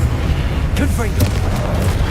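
Confringo fire blast spell in Hogwarts Legacy, a single booming burst with a brief whooshing flare over a steady low rumble of game background.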